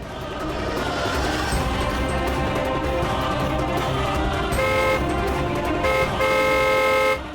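An arriving car's horn toots several times over a steady engine and traffic rumble, the horn tones growing clearer and repeating near the end.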